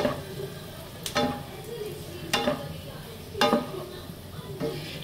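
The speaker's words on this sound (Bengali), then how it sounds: "এবার এটাকে আমি ভালো করে বাটার আর পেঁয়াজটা একটু মাখিয়ে নেব।" Mushrooms frying with butter and onion sizzle steadily in a pan while a spoon stirs them, producing three or four sharp scraping clicks at roughly one-second intervals over the soft crackle.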